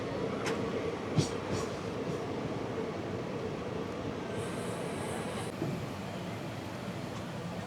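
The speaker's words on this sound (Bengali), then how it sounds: "আমাদের বালুরঘাট এক্সপ্রেস এখন ক্রস করছে মহিপাল রোড।" The Balurghat Express rolls past Mahipal Road with a steady, moderately loud rumble of wheels and carriages, a continuous rail drone with a few faint clanks and a brief high whine partway through.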